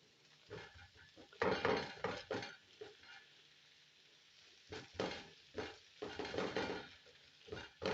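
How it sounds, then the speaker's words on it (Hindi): A spoon scrapes and taps through paneer in a pan as it is scrambled, bursts of clinking and scraping with short quiet gaps between them. "चम्मच की मदद से यहाँ पे हम पनीर को थोड़ा थोड़ा इस तरह स्क्रम्बल कर लेंगे।"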